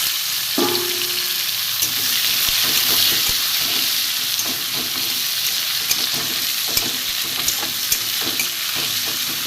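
Chopped onion sizzles steadily in hot mustard oil, with garlic already in the pan, as a spoon or spatula stirs and scrapes through it in a rhythm of close, repeated clinks over the continuous frying hiss.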